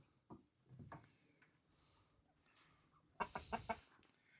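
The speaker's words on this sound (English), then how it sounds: "Well, let's check on the chickens." Chickens and a Brahma rooster cluck in short scattered bursts nearby, with a louder cluster of clucks near the end.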